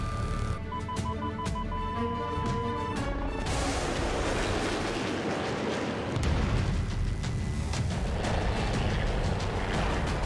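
A missile launch in a combat game, a sustained roaring burst with a rumbling blast that fills the scene, loud and close over steady mechanical noise.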